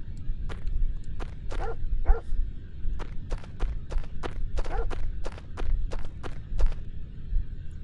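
Dog barking in the game Parasite Eve, a string of short sharp yips and barks in an irregular rhythm over a low rumbling background, fairly close and clear.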